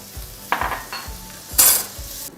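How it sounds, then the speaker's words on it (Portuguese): Bacon sizzles in a thin drizzle of olive oil in a hot pan, a loud close crackle broken by stirring and scraping strokes and two bright hissing bursts as pieces are turned, with no talk. "vou botar fiozinho, mas aí é um fiozinho mesmo de azeite e vou colocar o bacon"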